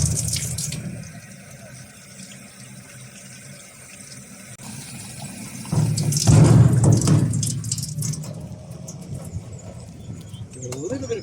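Water runs from a campsite tap into a Porta Potti 365 cassette, a steady splashing rush that swells louder midway through, while birds call in the background.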